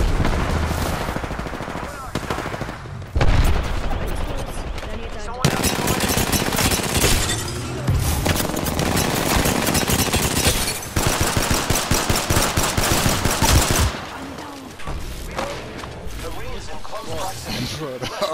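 Sustained automatic gunfire and rapid shots in Apex Legends, including the RE-45 pistol, loud and dense with bursts and brief gaps, while a player talks over the shooting.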